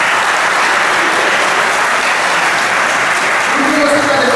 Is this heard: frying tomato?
no